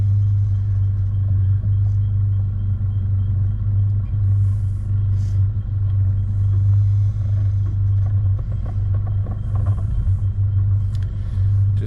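A Mitsubishi Pajero 4WD crawls through a bog hole on a rough off-road track, with a loud, steady low engine rumble heard close up, likely from an onboard camera, and faint rattles and splashes over it.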